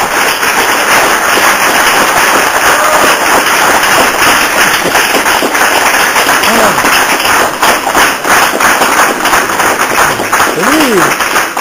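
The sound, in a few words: audience applause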